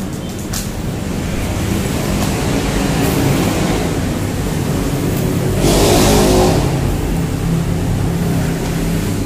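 Traffic from a main road carries into an abandoned restaurant as a constant broadband roar. A vehicle swells louder as it passes midway through, then fades back into the wash, with no talking.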